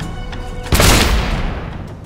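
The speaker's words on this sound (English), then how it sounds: "we pull out the gun and shoot the powder for a huge explosion" A huge gunpowder explosion set off by a gunshot in the pirate video game Risen 2: a sudden loud, broadband blast that rolls out and slowly decays over about a second and a half, after quiet ambience.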